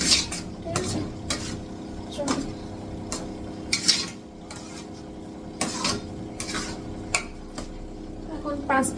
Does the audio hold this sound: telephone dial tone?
no